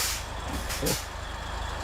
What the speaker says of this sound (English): Truck has no problem pulling two trailers.